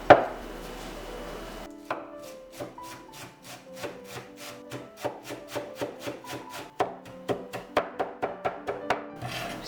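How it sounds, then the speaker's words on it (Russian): A knife on a cutting board finely chops fresh parsley and cilantro, with rapid, evenly spaced crisp taps that quicken toward the end, close and clear with no talking. "По пучку петрушки и кинзы свежей. Прутики отрезала, грубую часть. И сейчас мелко нарезаю."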